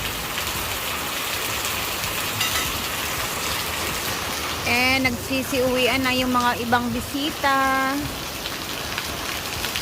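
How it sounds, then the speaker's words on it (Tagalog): Steady rain falls on a Saturday, making a constant broad hiss throughout. A person speaks briefly over it midway. "Sabado pero umuulan."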